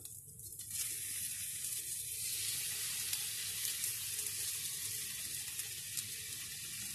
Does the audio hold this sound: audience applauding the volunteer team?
no